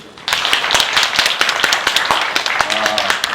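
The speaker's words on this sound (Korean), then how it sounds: "여러분 박수 한번 쳐주십시오." A small audience at a political talk claps in a short burst of distinct, fairly close handclaps, loose and uneven in rhythm, with a voice speaking over the end.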